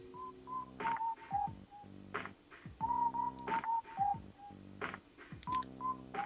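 A song from the video game Animal Crossing plays as bright, beepy tonal notes over a bouncy, repeating rhythm, with no voices over it.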